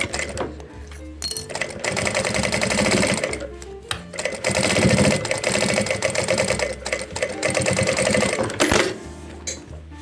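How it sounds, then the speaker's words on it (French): A sewing machine runs steadily, stitching the final seam of a fabric pencil case with a window. The motor whirs in close, continuous bursts with brief pauses between runs, and no one speaks. "Donc là, je fais la dernière couture."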